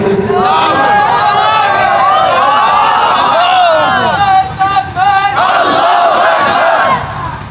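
A large crowd at a religious sermon gathering shouting the takbir in unison, loud massed voices swelling in repeated chant-like bursts, close and overwhelming, with a brief lull before the chorus rises again.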